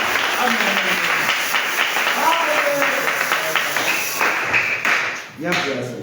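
A church congregation applauding and cheering loudly for several seconds, a dense, steady wash of clapping with voices calling out over it.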